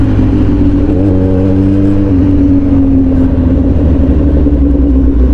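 A motorcycle engine drones steadily and loudly while riding, a constant low hum with a slight shift in pitch partway through, and no voices over it.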